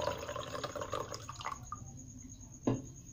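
Boiled ginger water poured through a strainer, a close, light trickle with drips that tapers off, ending in one brief louder splash.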